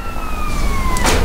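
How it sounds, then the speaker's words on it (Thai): An ambulance siren in the video game GTA San Andreas sounds loud and close as a single wailing tone sliding slowly downward, cut off by a sharp burst of noise near the end. "รถพยาบาลมาทำไมครับ"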